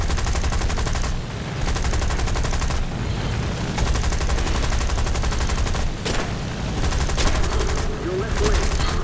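Sustained gunfire from War Thunder, with an enemy shooting at the player's plane and the rear gunner firing back: dense, continuous rattling bursts close and loud over a steady engine drone, with brief pauses between volleys.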